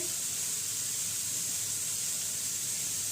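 Red chili sauce spooned into chicken spring roll filling sizzling in a hot pan over high flame: a steady, bright hiss and crackle, continuous and fairly close, with no voices.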